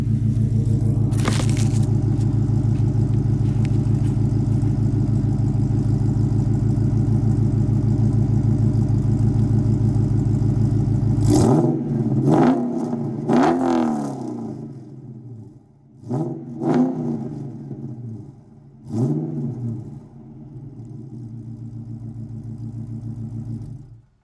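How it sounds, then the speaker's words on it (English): A Dodge SRT with an aftermarket exhaust idles with a loud, steady drone, then takes several sharp revs that bark and fall away, spaced through the second half, with no one speaking. "it's been a couple minutes, let's give her some revs."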